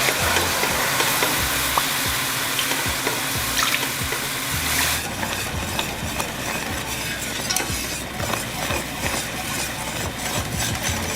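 Two cans of evaporated milk poured into a hot pot on the stove, a continuous liquid rush over sizzling, with a sharper change midway as the pour continues.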